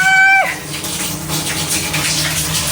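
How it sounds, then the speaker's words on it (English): Water gushes steadily into an off-grid tiny house from a newly installed pump, a continuous broadband rush that follows a brief high whistle at the start and runs on alone. "the pump works. Ooh, yeah! Woo! Yeah, baby! We got running water!"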